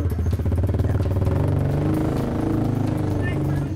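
Motorcycle engine rattling and revving up close as it pulls away to give chase, a pulsing mechanical clatter with a person talking over it.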